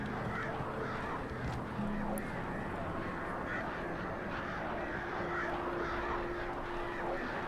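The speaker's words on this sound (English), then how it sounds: "I'm not comfortable with the noise those, like, birds are making." Harsh bird caws in the video game Alan Wake Remastered ring out repeatedly over a dense, steady wash of ambient noise, with no talking.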